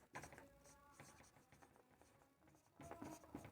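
Pen or chalk writing out a physics derivation, quick scratchy strokes and taps in short bursts, close but faint, with a brief pause in the middle.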